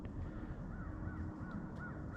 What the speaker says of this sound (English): Got a little bit of crows.